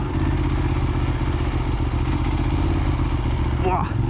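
A Benelli 752S motorcycle engine labours near stalling in gear, a steady low rumble with uneven chugging pulses, close and loud throughout, with a brief rise near the end.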